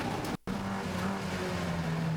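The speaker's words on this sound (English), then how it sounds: "it is Nev Kirkpatrick leading this pack of cars as they come through Hall Bends at the moment" A pack of Mini race cars coming through Hall Bends at Cadwell Park, engines roaring loud and continuous with a sustained droning pitch after a brief dropout.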